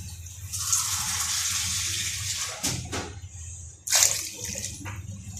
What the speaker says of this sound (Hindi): अब इसके अंदर हमने ना 2 कप पानी डाल